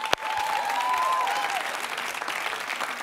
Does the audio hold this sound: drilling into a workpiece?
no